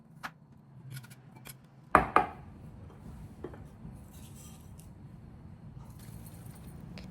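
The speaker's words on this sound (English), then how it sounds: "Start by thinly slicing your cucumbers. I'm using 3 Japanese cucumbers here." A knife slices through Japanese cucumbers on a board, with a couple of sharp cuts standing out among quieter, intermittent taps and scrapes in a calm kitchen.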